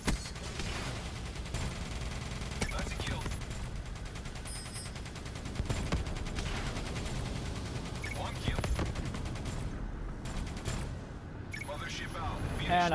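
Rapid gunfire in a first-person shooter as a hostile care package is shot down from the sky, dense, loud bursts continuing throughout with game noise and voices talking over it.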